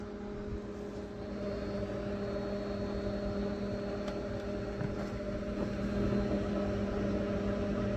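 A steady mechanical hum with a low drone from a microwave oven heating a mushroom, continuous and fairly quiet throughout with no voices.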